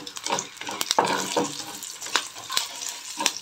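Turmeric dropped into hot oil for a dry coconut chutney, giving a light sizzle broken by sharp spoon clinks and stirring knocks against the pan, close and fairly quiet.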